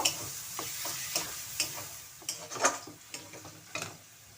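Moringa leaf paste stirred and fried in oil, with soft scraping strokes of a spatula against the pan at an irregular rhythm over a faint, steady sizzle close by.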